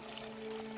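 Water pours quietly in Lost Words: Beyond the Page, a brief, faint, steady stream with a soft ringing hum beneath it, heard alone.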